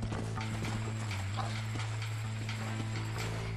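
Horse hooves galloping in the Western video game Red Dead Redemption, a fast, loud clip-clop rhythm running the whole time over a steady low drone of game ambience.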